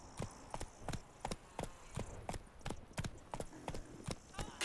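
Roach the horse's hooves clip-clop steadily on hard ground in The Witcher 3: Blood and Wine, about two evenly spaced steps per second, fairly quiet and distinct.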